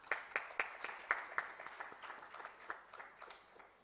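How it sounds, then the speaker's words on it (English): Applause from the audience at a healthcare summit: a modest crowd claps with distinct individual hand strikes, fairly sparse and tapering off over a few seconds. "Ladies and gentlemen, huge round of applause"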